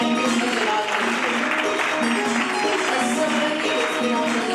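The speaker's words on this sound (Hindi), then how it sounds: "एक बार फिर जोरदार तालियां बजाएंगे उसका जलाल के लिए।" A church congregation at an Easter prayer meeting claps loudly and continuously, a dense roomful of hands with a faint musical hum beneath and no clear talk.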